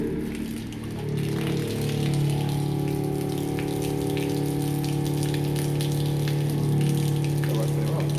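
An electric water pump in a toy hauler camper kitchen switches on and runs with a steady humming drone under gushing, splashing water, continuing at an even level throughout.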